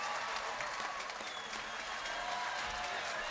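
Audience applause at a doctoral convocation ceremony, a steady dense wash of clapping from a large crowd lasting throughout, with faint voices murmuring underneath.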